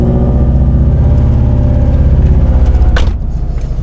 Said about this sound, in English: I just turned on my car, so cold start's pretty loud.